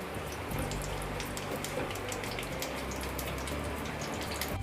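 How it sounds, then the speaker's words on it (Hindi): Onions frying in a pan on high flame for a paneer capsicum curry, a continuous crackling sizzle with scattered pops, close and steady throughout. "अब प्याज को मैंने 1 से 2 मिनट के लिए हाई फ्लेम पर भून लिया है"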